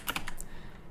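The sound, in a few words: typing on a computer keyboard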